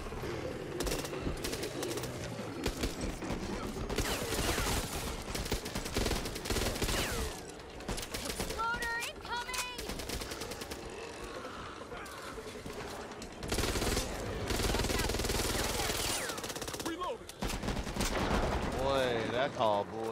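Gunfire in a video game shootout, with rapid bursts and single shots piling up loudly over a busy game mix, while a voice talks over parts of it.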